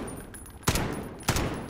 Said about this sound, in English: Why did he just shoot twice like that?